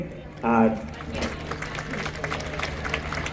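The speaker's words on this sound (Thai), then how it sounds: "ครบแล้วครับปรบมือให้" An audience claps at a birthday celebration with a hired mor lam band. The applause is moderate and scattered beneath someone speaking over a microphone.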